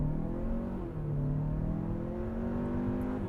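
A 2025 Hyundai Santa Fe Calligraphy launching without launch control, its engine note climbing steadily in pitch as it pulls hard from inside the cabin, with a brief shift dip around a second in before rising again.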